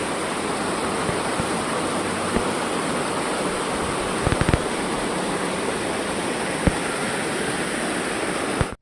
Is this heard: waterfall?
yes